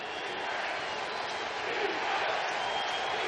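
A dense, steady roar from a packed football stadium crowd at a Tampa Bay Buccaneers versus New Orleans Saints game, distant and continuous without a break.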